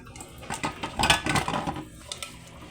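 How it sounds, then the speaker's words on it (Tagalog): Metal pot being scrubbed and rinsed, with scraping, clinks and splashing water in short irregular bursts close by. "Hugasan ulit ang kaldero natin."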